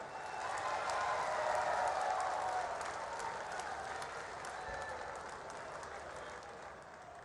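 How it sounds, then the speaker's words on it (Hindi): Loud, continuous audience applause welcoming the Prime Minister at an all-India teachers' union convention in Gandhinagar, Gujarat, a dense wash of many hands clapping that swells early and holds steady throughout. "जोरदार तालियों के साथ हम उनको वेलकम"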